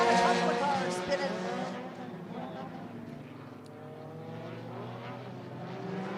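Race cars roaring around a track at a Steel City Stampede event as a couple of cars spin out, engine drone sweeping in pitch beneath a loud commentator's voice.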